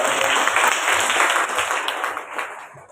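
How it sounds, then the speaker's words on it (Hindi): Audience of rural women in Udaipur applauds a district collector invited to the stage, a dense burst of clapping that gradually thins and fades over a few seconds. "जोरदार तालियों से"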